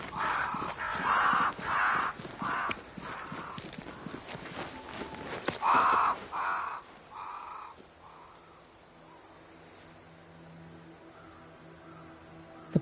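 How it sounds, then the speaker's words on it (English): Crows cawing near a great tree in the video game Banishers: Ghosts of New Eden, a run of harsh repeated caws over crunching footsteps for the first half, then fading away to a low ambient hum. "crows. They flock to that great tree up there."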